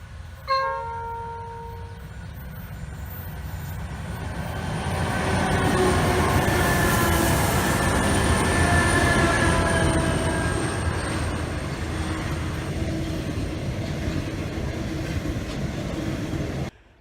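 A freight train rumbles past at close range, swelling to a loud, sustained roar of rolling wagons with a metallic ring, then slowly easing.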